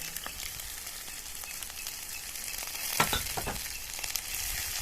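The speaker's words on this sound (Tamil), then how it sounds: "வெங்காயம் பச்சை மிளகாவை போட்டுக்கலாம்" Onion and green chili fry steadily in hot oil in a pan, giving a continuous close sizzle with soft crackles and a brief stir or clatter near the middle, no voices.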